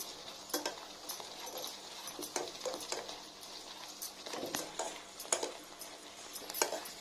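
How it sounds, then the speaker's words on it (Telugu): Mango pudding of milk and mango thickening in a pan, stirred with a spoon that scrapes and clinks against the metal in irregular strokes over a low simmering hiss, close and fairly quiet with no talk. "ఇలా చిక్కబడుతుండగానే బాగా కలుపుతూ ఉండాలి."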